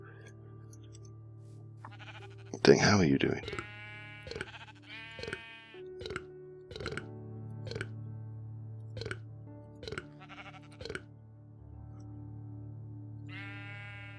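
Sheep in the survival game TerraFirmaCraft bleat repeatedly, a string of about eight short, evenly spaced calls over a steady low hum, with someone speaking briefly and game clinks in between.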